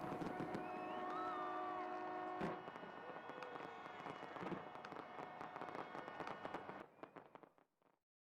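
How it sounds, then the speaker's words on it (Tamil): New Year's Eve fireworks in New Zealand crackle and boom from a tower, dense bursts and whistling rockets rattling on continuously before fading out at the end, with distant crowd noise beneath. "இந்த கோபுரத்தின் மேலிருந்து எழுந்த வான வேடிக்கை நிகழ்ச்சி இரவை பகலாக்கியது"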